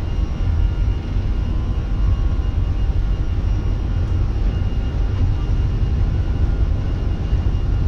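Airbus A320 jet engines at takeoff thrust fill a cockpit with a steady, loud, broadband rumbling roar that holds constant throughout, without speech.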